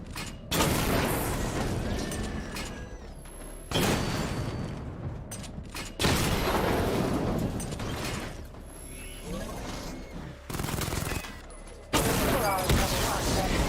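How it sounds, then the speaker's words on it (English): Weapon fire and a missile barrage in the Batman Arkham Knight video game: dense, loud mechanical bursts and rattling fusillades in three long surges, separated by brief drops in level. "Destroy targets to charge up weapon energy and activate missile barrage."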